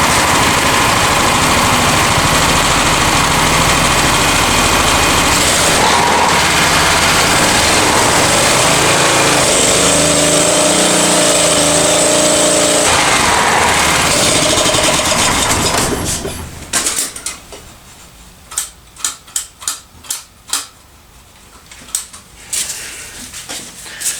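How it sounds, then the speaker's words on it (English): Honda EX1000 generator engine runs loud and close with a rough, revving drone for about fifteen seconds, then cuts out into a series of sputtering pops and coughs as it stumbles. "I was hitting the throttle the wrong way, so it wasn't actually speeding up a lot"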